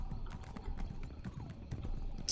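Horse hooves clip-clop in a quick, steady rhythm while riding in The Elder Scrolls Online, close and continuous over a low rumbling background with no talking.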